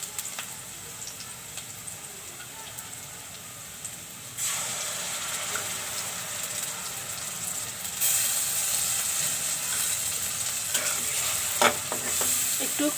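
Spice mix sizzles and fries in hot oil while being stirred for a taro stolon curry, a steady close hiss that grows louder midway with occasional scraping stirs.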